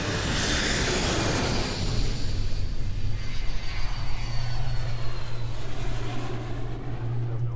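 Airliner engine of United Airlines flight 175, a Boeing jet en route to New York, heard as a steady loud roar with a constant low hum and broadband rush filling the whole stretch, no voices.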